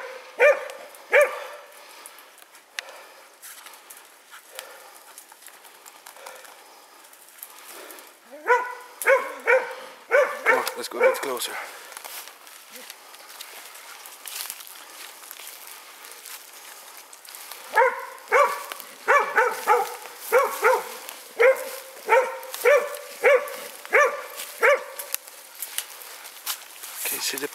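A hunting dog barks in repeated bursts at a boar in Swedish forest, the yaps coming in clustered volleys at moderate distance while people speak quietly nearby and footsteps move closer.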